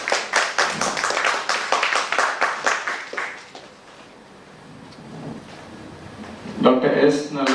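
Audience at a medical conference on gestational diabetes applauding, a few seconds of brisk clapping that fades out, followed by soft room noise and a voice at the end.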